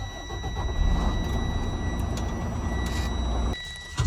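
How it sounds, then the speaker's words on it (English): Idling truck engine, a semi tractor with trailer left running to build air brake pressure, a steady low rumble with faint high tones that cuts out abruptly near the end. "So I will switch on my truck for that and let the air pressure build above 100 psi"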